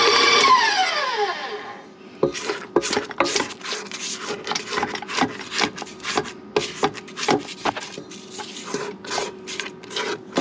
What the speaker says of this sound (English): Now we're going to beat it all together. Don't forget to scrape the side of the bowl down.